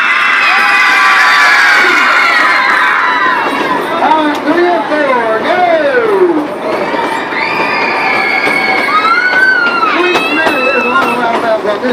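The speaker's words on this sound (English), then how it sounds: "I want y'all to scream as loud as you can" Children riding a Silver Dollar train-robbery ride scream and cheer together as loud as they can, a dense, sustained crowd of high shrieks that swells, dips briefly and keeps going close by.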